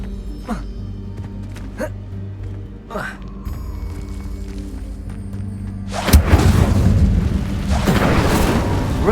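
An Incendio fire spell in the video game Hogwarts Legacy erupts partway through as a sudden loud whooshing burst that swells into a sustained roaring rush, after quieter scattered thumps with voices talking.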